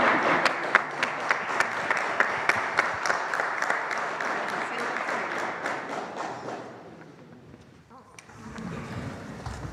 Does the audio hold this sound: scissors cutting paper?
no